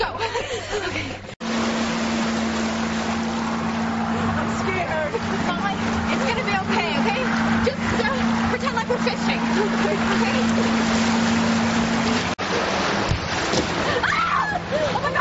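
A boat motor runs steadily on open water, a constant droning hum that holds for nearly the whole stretch while voices talk over it.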